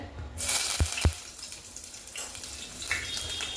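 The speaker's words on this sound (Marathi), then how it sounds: "तेल चांगलं तापलंय कडीपत्ता जास्तच टाकलाय" Curry leaves dropped into hot oil in a home kitchen sizzle in a soft, steady crackle, with a couple of sharp utensil knocks against the pan near the start and faint clatter later.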